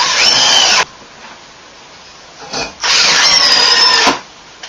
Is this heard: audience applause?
no